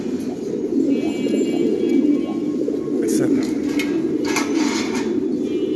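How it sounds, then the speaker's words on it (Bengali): Fancy racer pigeons, including barless racer breeding pairs, coo in a steady low murmur at a pigeon farm in Bangladesh, with faint higher calls and clatter over the constant flock sound. "এই যে বার্লেস রেসার ব্রিডিং পেয়ারগুলো"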